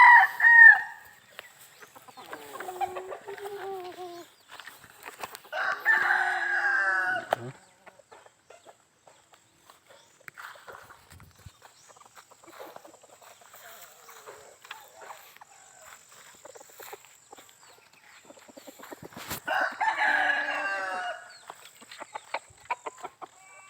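Roosters crow loudly in several long calls, one right at the start, one around the middle and one near the end, while chickens cluck and murmur more softly in between at a farmyard.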